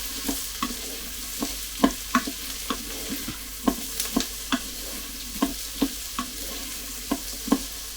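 Finely diced small potatoes stirred in melted butter in a pot, a steady run of short scraping clicks from the spoon at a slow, even rhythm over a soft sizzle, close and fairly quiet, with no voices.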